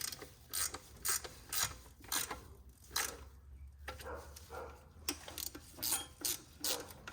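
Valve cover bolts on a 2006 Honda Odyssey 3.5L V6 are tightened with a ratchet, giving repeated quick clicking bursts, close and fairly faint, with short pauses between them.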